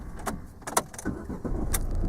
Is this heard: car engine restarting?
yes